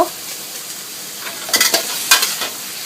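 Spicy pork being stir-fried in a pan sizzles steadily at close range, broken by a few sharp spatula scrapes and clatters against the pan.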